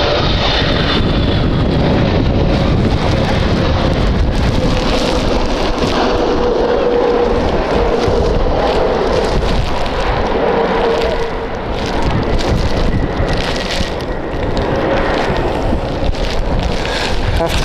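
Strong gusty wind roars across the microphone at Edinburgh Airport, a loud continuous rumble with a jet aircraft engine droning underneath throughout.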